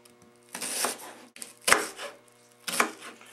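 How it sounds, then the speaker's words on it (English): Knife slicing a large red onion thinly on a cutting board, three close bursts of crisp cutting and chopping sounds separated by short pauses, no voices. "now we need to slice 1 large red onion into thin slices"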